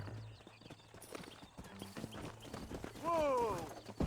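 Horse hooves clip-clop in Red Dead Redemption, an uneven patter of steps close by, ending with a horse's whinny, with a voice talking over parts of it.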